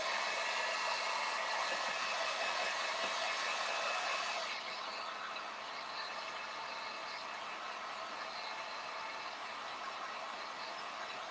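A hair dryer blows hot air over a damp stencil on a fabric face mask, a loud continuous whooshing hum that eases slightly partway through and keeps running steadily, with no talking.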